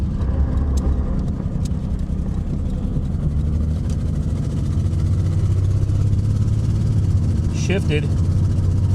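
A 1991 Mercury Cougar running on stale fuel chugs with a low, slightly uneven rumble, close and continuous, while someone talks over it.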